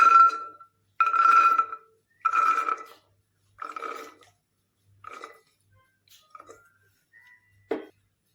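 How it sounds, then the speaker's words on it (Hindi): Soaked chickpeas are tipped into a metal pressure cooker on a gas stove in a series of rattling, ringing bursts, loud at first and fading with each pour, ending in a small sharp clink. "ये हमारे भिगे हुए चने हम डाल देंगे अंदर।"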